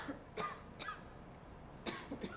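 A person coughs in short bursts, two quick coughs, a pause, then a few more rough coughs and a throat clear, close and fairly soft in a quiet room.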